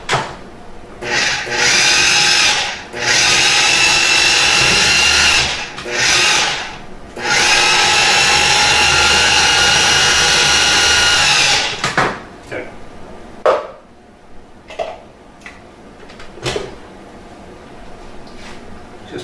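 A food processor pulses shrimp and vegetable stuffing for stuffed mirlitons in loud whirring bursts of a second or several seconds, separated by short pauses, then stops, leaving light clicks and handling sounds.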